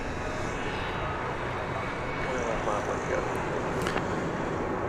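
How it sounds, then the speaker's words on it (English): An American Airlines jet from Panama City, Florida, on final approach at DFW Airport, making a constant heavy engine roar that fills the scene, with a voice apparently speaking over it. "American Flight 1090 from Panama City, Florida is on final approach here"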